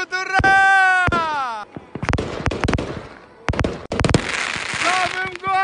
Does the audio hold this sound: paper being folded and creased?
no